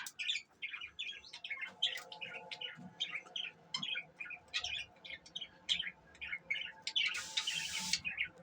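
Many budgies (parakeets) chirp and warble in a bird room, a steady overlapping chatter of short bright calls throughout, with a louder burst of squawking near the end.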